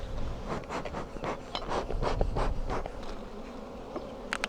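Dense, continuous droning of many honey bees at a large, full beehive, close and steady throughout, with a few brief rustles near the end and no speech.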